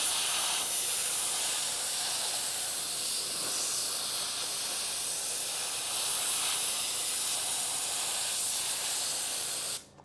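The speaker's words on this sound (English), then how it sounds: "I was keeping the blow-off tool completely in the groove and the rotor never turned" A compressed-air blow-off tool blasts into the groove of a vacuum pump with a loud, steady hiss that lasts about ten seconds and then cuts off abruptly.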